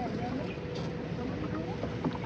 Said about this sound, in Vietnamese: Ghe đó là ghe chở cá hả ta?